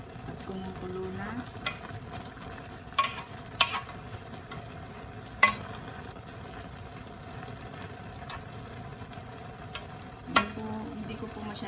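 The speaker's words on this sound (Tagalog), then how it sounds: "At kumukulo na." Ginataang laing with anchovies in coconut milk bubbles and simmers in a pot, a steady low bubbling broken by a few sharp clinks and taps.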